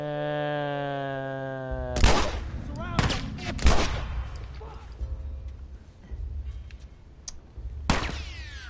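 Gunfire in The Last of Us Part 1: a few sharp, loud shots land in irregular bursts, about four distinct blasts spread over several seconds after a sustained musical tone fades out.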